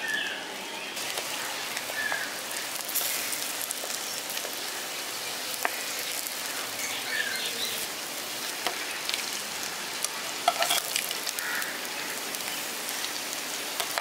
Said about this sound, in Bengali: ডিমগুলো আমি হালকা লালচে করে ভেজে নিয়েছি